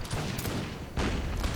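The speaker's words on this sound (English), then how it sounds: "He's going to lose that fight. That fight, isn't he, really, with my infantry shooting at him." Infantry musket volleys crackle in a battle in Empire Total War, a dense ragged fusillade of many overlapping shots at a distance, with a fresh burst of firing partway through and no talk.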